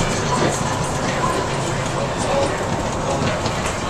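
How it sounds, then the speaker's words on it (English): Steady, loud rolling rumble and hiss from inside a Las Vegas Monorail train heading south along its elevated track, continuous throughout with a voice faintly present. "Las Vegas Monorail. Heading south right now toward"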